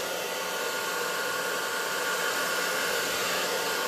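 Air blower or hair dryer pushing paint across a canvas in an acrylic interference pour, a steady loud continuous whoosh of air with no pauses and no talking.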